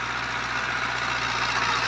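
A New Holland 640 tractor engine drones steadily at close range with a constant low hum, working a disc harrow in a damp field where the wheels slip, with no voices.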